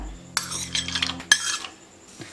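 Cashews dropping into ghee in a cooking pan, with metallic clinks and scraping of a utensil against the pan, a couple of sharp clatters and soft stirring, close and fairly clear, no talking.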